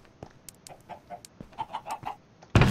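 Chickens on a Minecraft chicken farm, a series of short soft clucks in a quick irregular run, faint and close, ending with a sudden loud burst.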